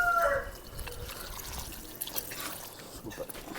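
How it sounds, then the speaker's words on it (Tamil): Dissolved tamarind water poured into pork cooking in a pan, a soft wet trickling and splashing that runs steadily and fairly quietly after a brief tonal sound at the start. "புளியை கரைச்சி ஊற்றி விடுவோம்."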